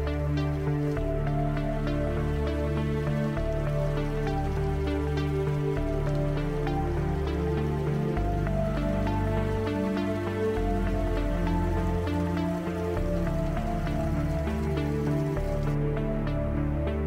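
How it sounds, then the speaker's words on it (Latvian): Water from a town hall fountain in Limbaži splashes and patters continuously, a steady close wash of droplets hitting water with no talking over it. "un arī šeit pie domes ir ļoti skaista strūkla"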